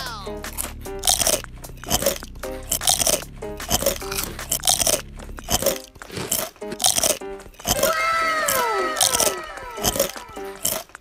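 Crunchy tanghulu candied fruit bitten and chewed at a night market in Iligan City, with repeated loud, sharp crunches and cracking of the hard sugar shell close up, under a busy background of voices.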